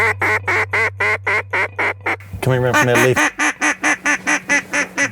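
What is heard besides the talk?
mallard duck quacking at dusk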